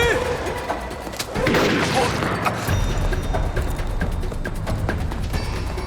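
Gunfire in an action film, with rapid cracks and crashing impacts against a dense, noisy background and mechanical rattles, close and loud.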